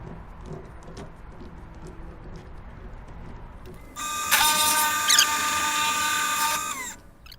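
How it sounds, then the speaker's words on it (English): Power drill boring out the center of a wooden handle in a woodturning shop, a steady loud whine that starts midway after quiet room noise and runs for about three seconds before stopping. "Now that I drilled out the center"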